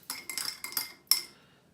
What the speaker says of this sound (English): We'll stir it like we're making a cup of tea.